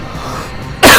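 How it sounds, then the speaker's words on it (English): A single sharp cough from a gamer during a livestream, bursting out loud at the very end after a moment of quiet room hum. "Sorry, if I cough every now and then"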